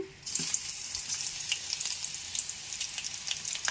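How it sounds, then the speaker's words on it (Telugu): Garlic dropped into hot oil in a pan for bitter gourd tamarind curry, a loud steady crackling sizzle close by with fine spattering pops throughout, and no one talking. "అదిగో ఆయిల్ పోసాను ఇగోండి వెల్లుల్లిపాయలు వేస్తున్నా"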